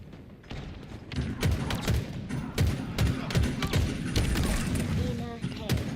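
Rapid gunfire bursts and heavy thuds from a Halo Infinite multiplayer match, with overlapping shots and booms at close range, while a player talks over the action.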